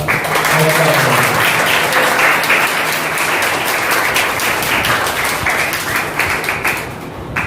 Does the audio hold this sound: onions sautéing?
no